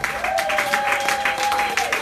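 A church congregation at a Sunday service claps loudly and continuously, a dense wash of applause with a sustained tone ringing beneath it.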